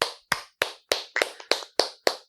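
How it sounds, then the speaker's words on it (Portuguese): Hands clap in a crisp, steady rhythm, eight sharp beats with short silent gaps, close and fairly loud in a Portuguese-language podcast studio. "Eu queria primeiro aqui uma salva de palmas aqui."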